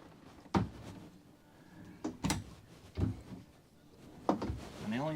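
A few sharp wooden knocks and slides of closet drawers in a 2025 Jayco Greyhawk 30Z Class C motorhome being pulled open and pushed shut, spaced apart, with quiet talk at the end.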